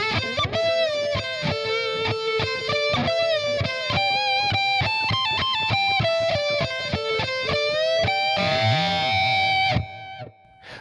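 Distorted electric guitar slowly playing a phrase from a song, with a run of picked notes, then a ringing chord that fades out near the end, heard alone without talk.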